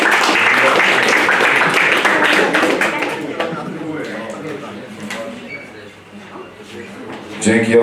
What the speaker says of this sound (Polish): Wielkie brawa dla panów, panowie face to face.